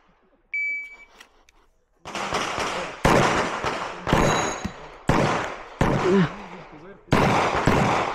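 A start beep from the shot timer at an IPSC shooting competition, followed by a rapid string of loud, close pistol shots, about six cracks with short gaps between them.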